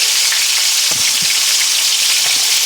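Cold smoked filet mignon sears in a hot pan with a loud, dense, continuous sizzle, close up, with a couple of faint soft knocks and no talking.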